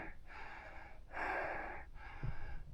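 A person breathes heavily at about 4,000 m altitude on a high volcanic plateau, drawing in and letting out several deep, rasping breaths close to the microphone with no talking.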